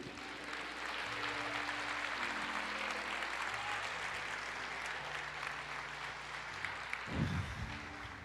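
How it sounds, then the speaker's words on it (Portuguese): A church congregation applauds during a Portuguese-language sermon. Clapping from many hands stays steady and fairly distant, with a low sustained tone underneath throughout. "Aplauda o Senhor, diga eu creio."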